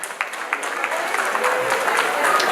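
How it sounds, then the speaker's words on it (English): An audience at a cultural association's anniversary event applauds the association president, with dense, fairly loud clapping that builds and holds steady. "Please, a round of applause for him."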